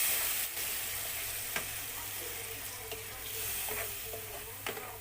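A ground masala paste for a clams curry sizzles steadily in a pan, close and even, with a few sharp ticks and spatters from stirring.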